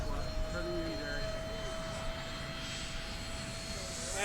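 An E-flite Habu STS 70mm electric ducted fan model jet flies at half throttle, giving a steady, fairly loud whine that holds at one pitch throughout, with faint voices in the background.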